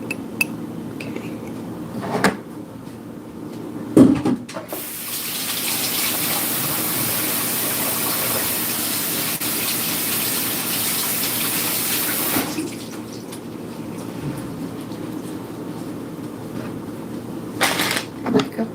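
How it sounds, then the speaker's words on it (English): A tap runs in a steady, loud gush for about eight seconds while someone washes their hands, framed by brief clinks and handling noises before and after, close to the listener. "And then I'll wash my hands again."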